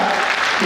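A burst of applause from a crowd at a gathering on a padyatra pilgrimage march, dense and fairly loud, heard only for a moment.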